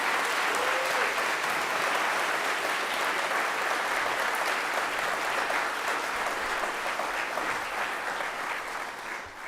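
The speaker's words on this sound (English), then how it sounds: "Can we have a round of applause for our wonderful director?" Steady applause from a chapel congregation honouring their director, dense and sustained throughout, easing slightly at the very end.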